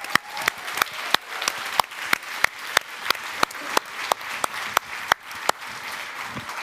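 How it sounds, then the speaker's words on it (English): Applause at a youth conference: a crowd claps in a steady, fairly even rhythm, with sharp individual claps standing out over a softer background of hands and room noise. "So big round of applause to harvesters and facilitators."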